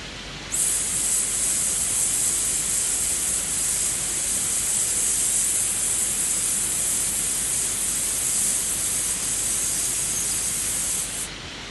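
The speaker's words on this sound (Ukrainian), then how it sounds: "Набираємо е, повні легені повітря і видихаємо зі звуком. «с»." A steady, sustained breathy "sss" hiss from a voice exhaling, held evenly for about eleven seconds without a break, close and fairly loud.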